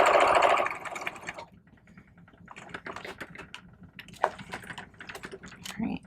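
An industrial buttonhole sewing machine stitches a bar tack, a fast mechanical clatter of needle strokes heard close and moderately loud, fading in and out between short pauses.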